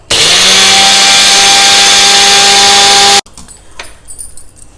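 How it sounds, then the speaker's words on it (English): An electric dry grinder jar blends cooled roasted rava into powder, a loud steady high-pitched motor whine running for about three seconds before cutting off abruptly, followed by faint clinks and rattling. "We will blend it into a powder."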